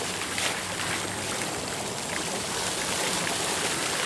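Small fountains in a park bubbling and splashing, a steady dense wash of water noise, close and fairly loud with no talk.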